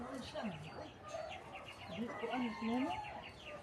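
Chickens cluck and chatter in short, rising notes, with a few louder calls near the end and faint voices in the background.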